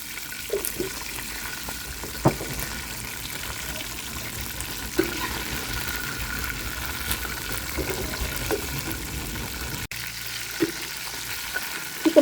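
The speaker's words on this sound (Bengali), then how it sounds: "এখন হচ্ছে যে আমরা চিকেন ফ্রাইগুলো করে নিব আমি হচ্ছে দুপুর বেলায় এগুলাকে কোটিং করে রাখছিলাম ময়দা দিয়ে ফ্রাই করে নেওয়ার পালা" Flour-coated chicken pieces frying in hot oil, giving a steady close crackling sizzle with occasional stirring knocks, and no voices.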